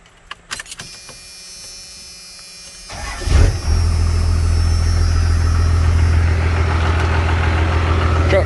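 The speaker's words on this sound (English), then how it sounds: "truck fires up like it's supposed to." A pickup truck's engine cranks and fires up after a fuel pump relay replacement, with a few clicks and a quiet stretch before the loud catch, then settles into a steady, rumbling idle close by.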